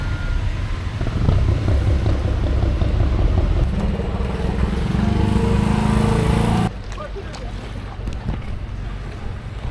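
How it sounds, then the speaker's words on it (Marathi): Shikara boat pulling away on the Alleppey backwaters in Kerala, with a steady loud engine drone and wind rumble that steps down partway through, continuing as a quieter hum with light splashing. "तर ही आमची बोट निघाली आता."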